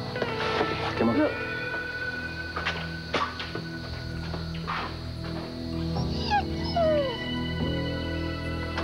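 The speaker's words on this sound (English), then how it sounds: "Good dog." A dog whimpers and yips in short rising whines scattered through the clip, heard alongside people talking and other background sounds.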